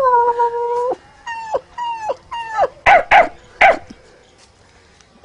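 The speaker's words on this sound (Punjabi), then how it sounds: "ਇਹ ਕੁੱਤਾ ਭੌਂਦਾ ਬਾਸੀ ਲੈਂਦਾ ਆ ਪਹਿਲਾਂ ਭੌਂਦਾ" A dog gives a long whining howl and a few drawn-out whimpers, then breaks into several loud, sharp barks close by, with short pauses between the sounds.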